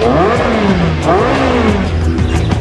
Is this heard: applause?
no